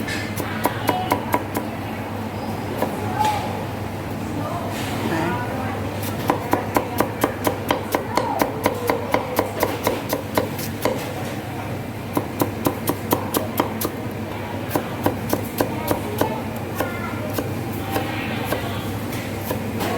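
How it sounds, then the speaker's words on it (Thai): Fresh bamboo shoots being chopped on a board, a long series of sharp, close knocks in quick rhythmic bursts with short pauses between runs. "เราหั่นหน่อไม้ก่อนนะ"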